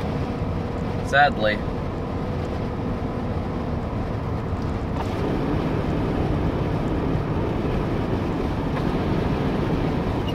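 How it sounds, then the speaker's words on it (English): Steady, rough wind roars and buffets the microphone throughout, with a single brief spoken word near the start. "Oh, it's getting windy."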